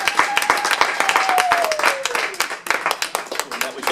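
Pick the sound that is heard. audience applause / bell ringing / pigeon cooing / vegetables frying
audience applause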